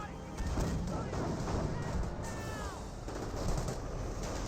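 Artillery fire booms in Company of Heroes 1, a dense run of distant explosive thuds and crackling gunfire layered over a constant battlefield rumble, with faint whistling shells overhead.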